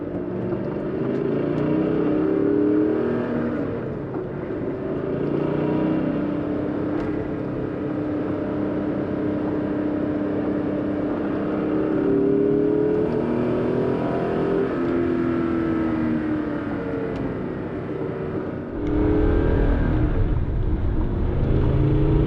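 A BMW Z8 sports car with Dinan S2 tuning drones steadily while driving, its engine pitch rising and falling through gear changes, ending with a louder rumble as it accelerates.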